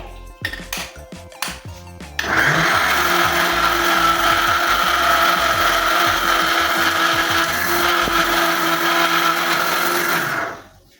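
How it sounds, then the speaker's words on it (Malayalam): Bread is ground into crumbs in a kitchen mixer grinder jar: a few clattering knocks, then the motor kicks in with a loud, steady high-pitched whir for about eight seconds before spinning down. "ബ്രെഡ് പൊടിക്കാൻ വേണ്ടിയിട്ട് ജ്യൂസ് മിഷയിൽ ഇട്ടിട്ടുണ്ട് പിന്നെ നമുക്കത് നന്നായി പൊടിച്ചെടുക്കാം"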